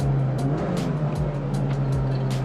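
Mitsubishi Evo 9 with a small turbocharger accelerating hard, engine tone rising in quick pulls with sharp gearshift breaks and bursts of turbo hiss, loud and close.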